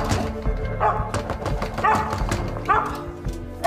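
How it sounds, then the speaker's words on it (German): A dog left alone outdoors gives repeated barks and yips at a steady pace, fairly close and loud, over a busy background of music and other sound. "Was macht denn der Hund alleine draußen?"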